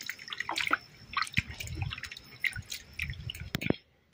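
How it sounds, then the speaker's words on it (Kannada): Raw chicken is washed under running water, with irregular splashes, drips and bursts of water close by, spaced unevenly over a few seconds before ending. "ಈಗಷ್ಟೇ ಹೋಗಿ ಚಿಕನ್ನ ತೊಗೊಬಂದು ವಾಶ್ ಮಾಡ್ತಾ ಇದ್ದೀನಿ."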